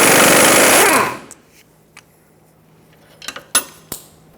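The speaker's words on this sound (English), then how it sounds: "put a 21mm socket on the mounting nut side and take it off." Loud mechanical burst lasting about a second as a 21mm socket spins a mounting nut off a wheel stud held in a vise, from a 2000-2005 Ford Excursion front hub, then near silence broken by a few sharp metallic clinks.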